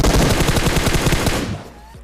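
A rapid burst of automatic gunfire from a shooter video game, dense repeated shots for about a second and a half before trailing off.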